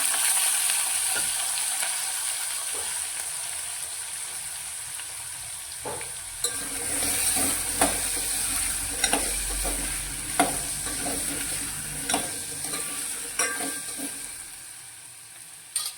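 Chopped potatoes go into hot oil already crackling with spices and asafoetida, giving a bright continuous sizzle broken by scraping stirs and a few sharp clicks of a spoon against the pan, close and steady.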